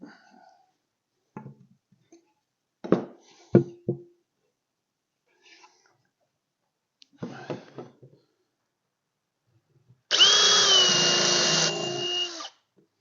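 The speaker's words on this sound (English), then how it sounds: "I'm going to put 3 screws in that" Cordless power drill driving screws into a wooden kids' airplane rocker, a short steady whirring burst near the end after scattered knocks and handling sounds.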